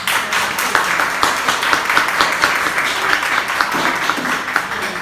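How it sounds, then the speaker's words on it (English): Applause from a room of participants at a pilot program session for presenters, a loud, busy patter of many hands clapping close by with a few sharper individual claps standing out. "I want to give everybody who presented a round of applause."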